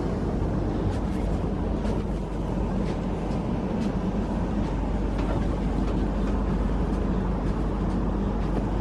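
A London Northwestern Railway train runs steadily, with a continuous loud rumble and rattle of the carriage throughout and no break in the noise.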